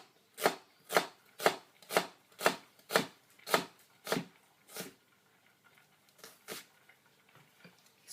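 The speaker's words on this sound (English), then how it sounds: "Right, we're going to cut these really finely." A knife chops onions finely on a board for beef kebabs. About a dozen crisp, evenly spaced cuts land close up, then grow quieter and more scattered toward the end.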